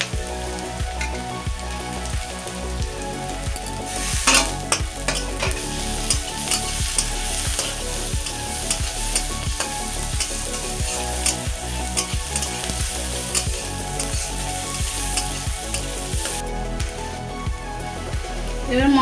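Spices with garlic and ginger frying in a pan give a loud, continuous sizzle, with a spoon repeatedly scraping and stirring in a regular rhythm and a few sharper bursts along the way.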